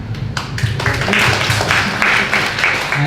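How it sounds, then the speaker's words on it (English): Audience applause for a professor at the close of a presentation at an academic conference session on gender and urban space: dense, steady clapping from a seated crowd, filling the room for about three seconds. "give applause"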